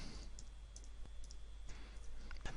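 Faint, sparse clicks of someone typing on a computer keyboard, irregular keystrokes over a steady low background hum.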